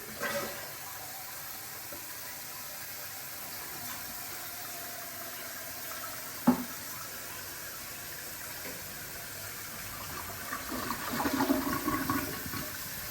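A toilet with new hardware flushes and refills in a house during a home inspection, a low, moderately quiet rush of water with a sharp knock midway and a louder gurgling swell near the end.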